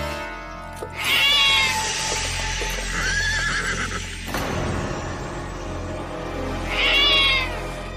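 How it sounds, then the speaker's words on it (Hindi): A cat meows twice, at the start and near the end, over a steady low hum, with horse neighing and hooves mixed in. "बिल्ली ने रास्ता काट गई कुंवर जी"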